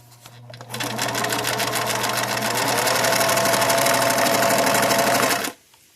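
A vintage 1950s Swiss-made Bernina 534 straight stitch sewing machine runs steadily at speed, its loud, even motor whir and rapid needle clatter starting abruptly and cutting off near the end.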